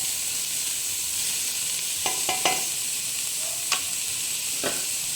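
Vegetables for lumpia frying in a pan, a steady bright sizzle with several sharp scrapes and clacks of a utensil stirring the mix, close up.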